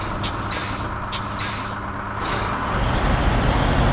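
Truck air brakes in SnowRunner on hard mode, a series of sharp hissing air bursts over a rumbling engine idle that grows louder near the end, no talking.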